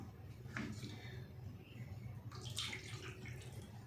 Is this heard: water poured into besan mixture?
yes